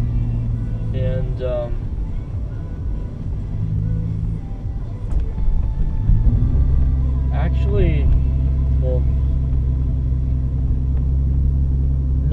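A car drives along a road past Saratoga High School, its steady low engine rumble and road noise running throughout, with a person talking over it from inside the vehicle.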